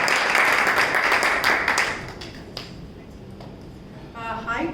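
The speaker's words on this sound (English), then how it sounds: "Take a round of applause." Audience clapping at a club meeting, a dense burst of applause that fades after about two seconds, followed by scattered claps and a voice near the end.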